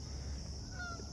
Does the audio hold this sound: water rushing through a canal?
no